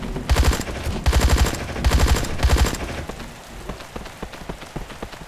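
Rapid automatic gunfire in the Atomic Exile extraction shooter, four loud sustained bursts in quick succession, followed by scattered fainter shots and debris-like crackling as the firing dies away.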